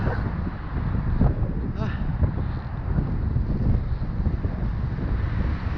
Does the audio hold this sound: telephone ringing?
no